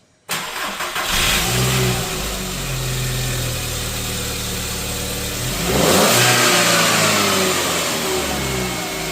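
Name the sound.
2003 VW Beetle engine starting and running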